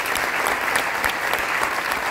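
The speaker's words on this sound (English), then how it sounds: "This applause is for each one of us." Steady, full audience applause fills a motivational talk for millennials, dense and sustained throughout with no voices over it.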